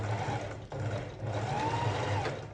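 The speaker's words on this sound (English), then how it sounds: "So now I'm gonna sew 2 centimeters seam at the bottom, starting off with my back tacking." A domestic sewing machine stitches a 2 cm seam on a cushion cover, beginning with back tacking; a steady close motor hum with a pitch that rises and falls as the stitching speeds up and slows, with no talking.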